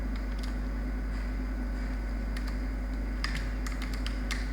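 Keys clack on a computer keyboard in quick irregular bursts, light and close, over a steady hum of background noise with no talking.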